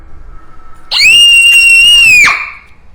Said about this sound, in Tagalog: ay sumigaw ang bata.